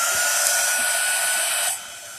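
A hair dryer blows close up on chalkboard paper to dry out an air bubble, giving a steady, loud hiss that drops off sharply near the end.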